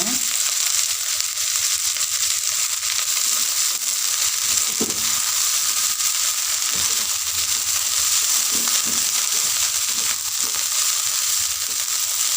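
Turmeric leaves frying with chili in a pan for stir-fried turmeric leaves, a steady close sizzle with occasional soft clicks and stirring knocks and no talking.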